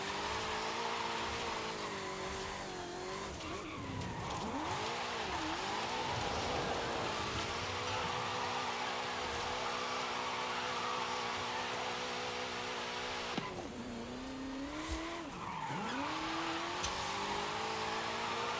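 A lighter, lower-horsepower car drifting in the Forza racing game gives a sustained engine drone with repeated pitch sweeps as it revs up and down, steady and fairly loud throughout with no voices.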